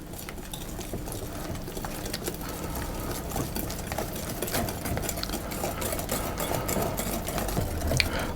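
An electric mixer whirring steadily as it blends passion fruit bar ingredients, a close, continuous motor drone with faint rattling against the bowl and no talk.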